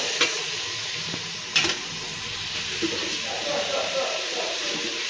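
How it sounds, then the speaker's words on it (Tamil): Chopped onion and tomato sautéing in a pan for paneer pulao, a soft continuous sizzle with a few sharp stirring knocks and scrapes near the start. "இதையும் நல்லா நம்ம கலந்து வச்சு கொஞ்சம் நல்லா வதங்கட்டும்."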